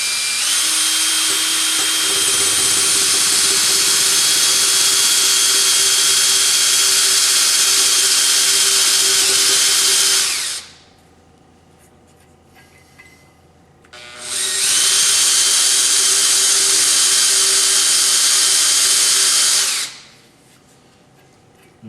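A power drill spins a chamfering tool down a bolt, whining loudly and steadily in two long runs of about ten and six seconds, with a quiet pause between them and no talking.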